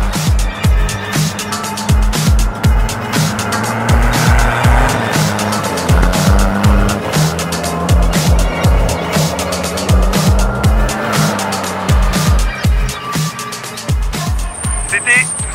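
A 1988 Mitsubishi Pajero Proto four-wheel-drive Dakar rally truck spins a donut, the engine revving hard over continuous squealing tyres and rhythmic thumps, loud and close with voices talking over it.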